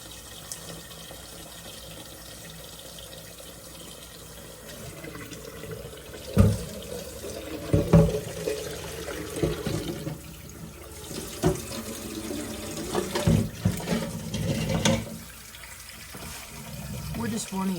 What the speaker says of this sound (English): I'm going to run as cold water as I can get out of my tap over the eggs for several minutes.